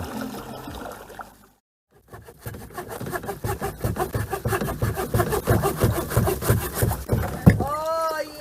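Rapid, rhythmic back-and-forth strokes of a hand saw biting through wood on a kayak trip, loud and close, after a brief silence; a faint voice appears near the end.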